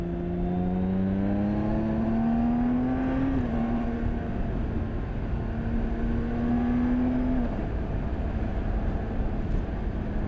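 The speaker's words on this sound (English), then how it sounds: "So I gave it a little bit of a blast at higher speed there." A BMW K1600GT six-cylinder touring motorcycle accelerating at high speed on an A road: a smooth, continuous engine drone climbing in pitch, with steady wind rush and no talking.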